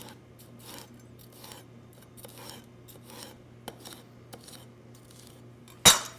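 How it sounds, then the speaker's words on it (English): A knife thinly slicing a yellow bell pepper on a cutting board, a run of soft rhythmic cuts with taps on the board, ending in a louder knock, close and quiet without talk. "We are going to slice a beautiful pepper, get rid of that core, and just give them a nice thin slice"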